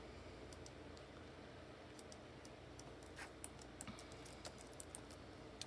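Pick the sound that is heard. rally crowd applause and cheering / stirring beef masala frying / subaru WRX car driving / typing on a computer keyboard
typing on a computer keyboard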